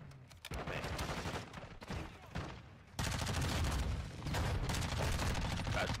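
Rapid, dense shotgun and gunfire blasts in a Modern Warfare 2 match, loud overlapping bursts that jump in level midway and keep going without pause.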